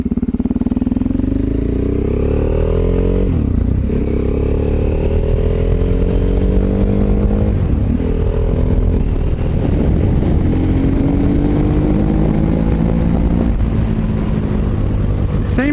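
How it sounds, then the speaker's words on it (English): A KTM 950 Supermoto motorcycle engine revs up repeatedly from idle, each blip rising and falling with a loud, close, throaty twin-cylinder roar and some mechanical clatter. "Well, you get used to revving a bike, don't you?"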